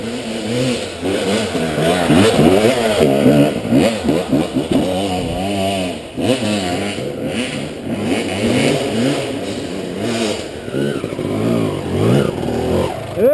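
Motocross motorcycle engine running loud and close, revving repeatedly with rising and falling throttle sweeps throughout, no pauses.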